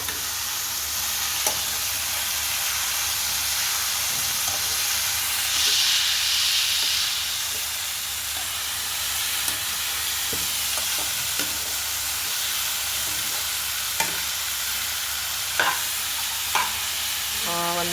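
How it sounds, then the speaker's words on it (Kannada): Chopped ridge gourd stir-fries in a hot pan for a Karnataka-style masala gojju, a steady loud sizzle and hiss punctuated by occasional scraping and tapping of the spatula, with no talk. "ಹೀರೆಕಾಯಿ ಹಾಕಿದ್ಮೇಲೆ ಚೆನ್ನಾಗಿ ಇವಾಗ ಫ್ರೈ ಮಾಡ್ಕೊಳ್ಳೋಣ."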